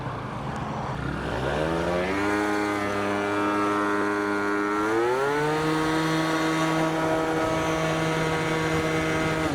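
A Stage6-tuned Yamaha BWS 70 scooter engine revs up in stages, its whine climbing in pitch, then holds a steady buzzing drone, loud and near without talk.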